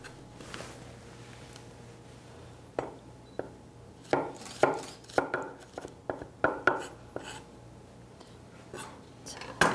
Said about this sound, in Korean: 양파를 다져서